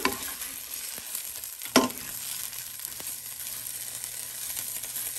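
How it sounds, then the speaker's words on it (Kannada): Bitter gourd slices frying in oil in a pan, a steady close sizzle throughout with a sharp clink of a utensil stirring or turning the pieces. "ಸೊ ಇನ್ನೊಂದು ಸೈಡು ಚೆನ್ನಾಗಿ ಫ್ರೈ ಆಗಲಿ."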